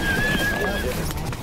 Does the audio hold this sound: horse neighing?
yes